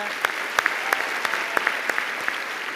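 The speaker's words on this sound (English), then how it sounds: "A round of applause for the choir." Steady applause from the guests at a university autumn graduation ceremony in Gqeberha honours the choir, a dense wash of clapping with a few sharper hand claps standing out, continuous for about three seconds.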